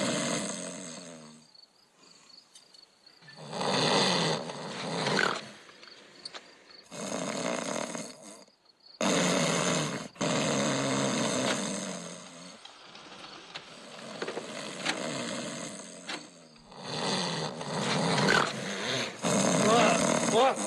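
A tape recording of a man snoring plays loud, rasping snores in a steady repeating cycle, each drawn-out breath separated by short pauses, close and filling the room.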